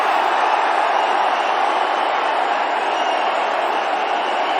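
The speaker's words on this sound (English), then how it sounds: "there goes Dhoni and gives the crowd something to cheer" A large cricket stadium crowd roars steadily in a broad, continuous wash of cheering after MS Dhoni hits a six, loud and sustained with no clear breaks.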